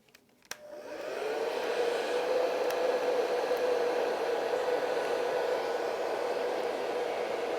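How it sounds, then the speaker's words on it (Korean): A hair dryer is switched on after a click and blows steadily to dry paint on a portrait, a close, continuous whooshing hum with no talk. "일단 드라이기로 좀 말리고"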